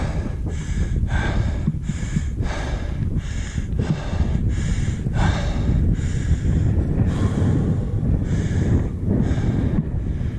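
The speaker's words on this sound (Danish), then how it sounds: "at det blæser lidt mere." Wind blowing across a mountain ridge rumbles steadily against the microphone, with a series of rhythmic breathy puffs heard close by.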